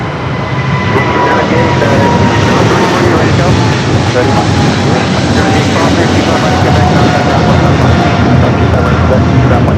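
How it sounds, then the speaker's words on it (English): A China Airlines Cargo Boeing 777 roars in a steady, loud broadband jet rumble at Los Angeles International Airport, holding constant throughout with a faint tonal whine riding on top. "Still have that China Airlines Cargo 777 now heading over."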